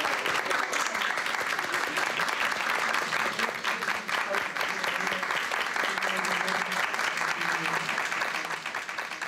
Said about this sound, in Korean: 조선대 학생들의 박수는 길었다